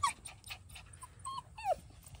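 Australian Labradoodle puppy about seven weeks old whimpering in a litter, a few soft high-pitched whines and yips with one longer falling whimper, quiet and close.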